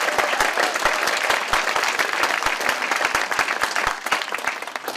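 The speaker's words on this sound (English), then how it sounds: "Another big round of applause for Reverend Brown." Audience applause for Reverend Brown at an annual gardeners' gathering: dense, steady clapping from a sizeable crowd, sustained and fairly close for the whole stretch with no voices over it.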